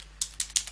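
Three crisp, separate keystrokes on a computer keyboard while entering a Linux command-line file rename, close and fairly quiet against a faint steady hum.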